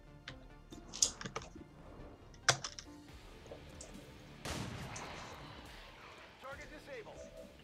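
Sharp gunshots in a video game crack out near 1 and 2.5 seconds, with a louder burst of firing and rumble later, over busy game noise.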